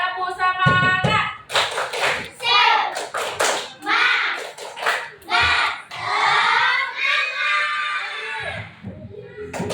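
Schoolchildren in a classroom clap a rhythmic 'tepuk semangat' pep chant, sharp bursts of hand claps in patterned groups mixed with children's voices chanting along.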